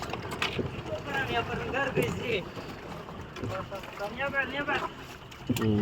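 A boat speeds past, overtaking on a lake in Kashmir during a shikara ride, its motor and water noise rising and falling nearby amid wind buffeting, with voices talking over it.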